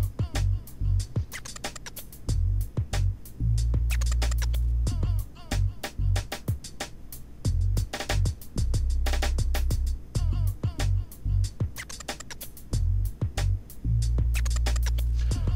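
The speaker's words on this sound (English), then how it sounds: "remove the two T20 Torx screws at the top of the tail light housing" Torx screws being backed out of the tail light housing on a 1997-2002 Ford Expedition with the rear hatch open, heard as repeated close scratchy grinding bursts with short pauses between turns, no talking.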